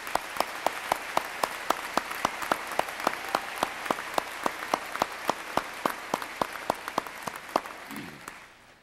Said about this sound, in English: Would you join me in giving Jim another round of applause?